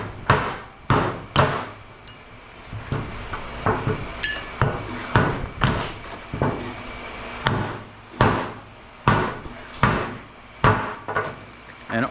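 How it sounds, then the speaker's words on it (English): Repeated sharp metal-on-metal hammer blows strike copper ballast transformers being broken apart for scrap, a dozen or so loud, irregular impacts with clanking between them, no talking. "And all this hammering,"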